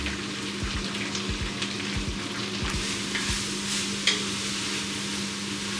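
Onions and other vegetables sweat in a pan for a homemade pasta sauce, making a soft, even sizzle with scattered stirring scrapes and light ticks over a constant low kitchen hum.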